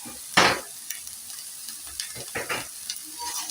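Spices with turmeric and paprika sizzle in a pan as samosa filling is stirred, with a few distinct scraping bursts of the spoon over a low, steady frying hiss close by.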